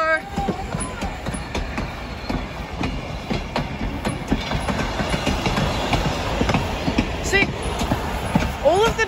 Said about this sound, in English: There is a train.